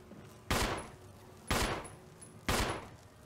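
Three evenly spaced loud gunshots, one per second, each ringing out and fading before the next, in the survival horror game Resident Evil HD Remaster.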